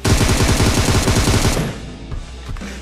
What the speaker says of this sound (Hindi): मैं हिल हिल के गोलियां इसलिए मार रहा था